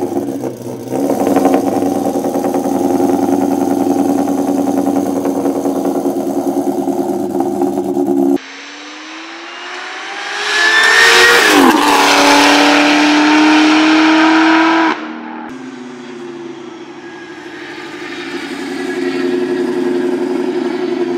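A Kenne Bell supercharged Ford Cobra with Cook's headers and a Stinger catback exhaust idles with a deep, lopey rumble, then revs hard several times with supercharger whine, loud and close, before settling back to idle.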